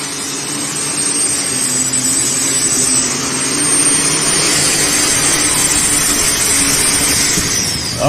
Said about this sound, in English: light super stock tractor here. 504 cubic inches allowed, up to 4 turbochargers